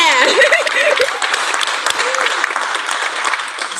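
Graduation ceremony audience clapping throughout, dense and close applause mixed with some cheering voices.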